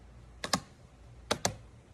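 A Logitech computer mouse is tapped twice, then twice again, giving two pairs of sharp, close clicks with a quiet pause between the pairs.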